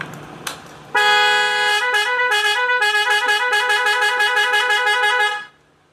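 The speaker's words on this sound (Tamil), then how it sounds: "இப்போ அடிக்கிற ஹார்னு" A motorcycle horn, an added extra horn fitted to a bike, sounds in a rapid, continuous series of pulsing toots for several seconds, loud and close, then cuts off.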